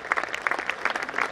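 Steady audience applause for nursery-class choir members at a school annual function, a dense patter of many hands clapping continuously at moderate volume.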